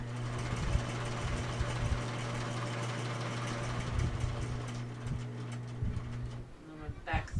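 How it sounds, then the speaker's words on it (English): A sewing machine runs steadily, back stitching along a fabric edge while making a bag, its motor humming close up with rhythmic needle ticking until it stops near the end. "I'm going to back stitch again to bind the edge down."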